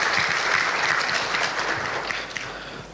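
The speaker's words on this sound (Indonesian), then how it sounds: "Beri aplaus buat kita semua Bapak Ibu sekalian." An audience at the opening of the COO Summit 2025, a corporate conference, bursts into sustained applause. The dense, even clapping fills the hall for several seconds.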